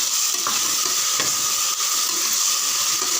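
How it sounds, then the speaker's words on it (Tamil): Vegetables sauté in a hot pan for kathamba sambar, giving a steady, loud sizzle with a few soft stirring scrapes close by and no voices. "நல்லா கெட்டியாக இருக்கிற காய்ங்கெல்லாம் ஃபஸ்ட்டு சேர்த்து வதக்குங்க"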